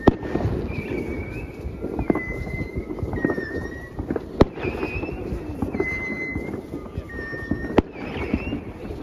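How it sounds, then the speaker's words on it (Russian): New Year's night fireworks going off outdoors, with scattered pops and a couple of sharp loud bangs over a continuous crackling, distant rumble and whistling streaks, heard in the open air. "Идем на салют."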